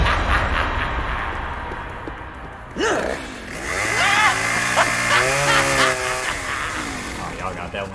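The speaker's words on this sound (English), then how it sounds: "he's got the chainsaw" A chainsaw revs in the multiplayer horror game Propnight, its buzzing engine rising and falling in pitch for several seconds amid game noise while players talk over it.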